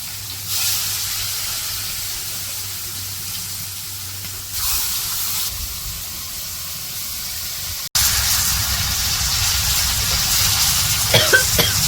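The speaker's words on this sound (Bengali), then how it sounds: "মাছগুলো ভাজবো তো হলুদ মরিচ মাখিয়ে নিছে ওইদিকে কড়াইও তেল দিয়ে দিছে আর মাছগুলো ভাইজা নিবো" Pangas fish coated in turmeric and chili fry in hot oil in a wok, a steady close hiss that jumps louder midway and keeps sizzling with small pops toward the end.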